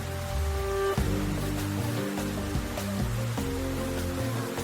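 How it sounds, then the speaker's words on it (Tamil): Steady rain falls outdoors in a Tamil TV drama scene, a continuous broadband wash running under tonal music cues and low drones throughout. "ஏய் சூர்யா, ஏன்பா மழையில் நின்றுட்டு இருக்க?"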